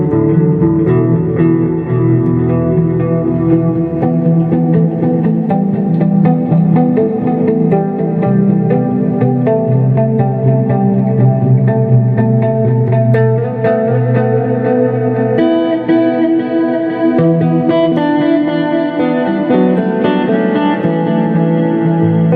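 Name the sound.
guitar pedal with reverb effect activated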